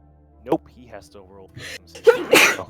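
A single sharp sneeze bursts out near the end, loud and close, following a man's speech at a tabletop role-playing game session.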